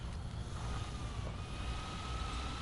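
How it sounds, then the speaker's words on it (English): A Limes L400 electric hybrid truck in SnowRunner gives off a steady, strange electric hum with a faint high whine on top, unbroken and moderately quiet, with no talking. "the only thing you really have to put up with is the weird hum of the engine"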